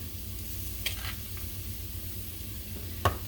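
Ground beef fries in a pan with a low, steady sizzle, softly stirred, with one sharp scrape of the utensil near the end and no talking.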